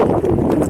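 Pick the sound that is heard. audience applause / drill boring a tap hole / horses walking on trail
horses walking on trail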